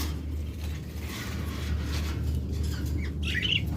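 Lovebirds at a bird seller's cages give shrill squawks and chirps over a constant low hum and mechanical rattling background, the calls sharpest near the end.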